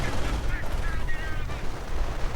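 Gunfire in a WWII strategy video game, a dense close crackle of rapid machine-gun and rifle shots under a voice giving commands.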